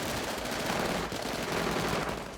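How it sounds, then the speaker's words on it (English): Dense machine gun fire from a film shootout at a house: a continuous, loud roar of rapid overlapping shots with no pauses, filling the whole stretch. "There will be gunfire!"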